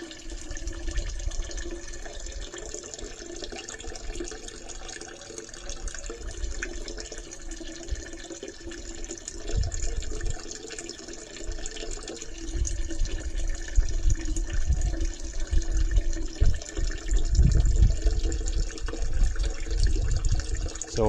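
Water rushing through a toilet and drain line during a hall bathroom flow test of a partly blocked pipe, a steady liquid flow that swells louder and more turbulent toward the end, with no talking.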